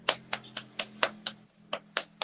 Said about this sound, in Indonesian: Oke, tepuk tangan buat kelompok 1.